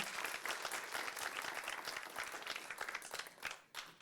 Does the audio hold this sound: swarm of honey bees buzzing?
no